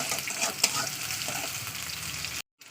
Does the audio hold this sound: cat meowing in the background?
no